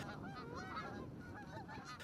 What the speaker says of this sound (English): the flocks of Canada geese can be seen flying south throughout Fairfax County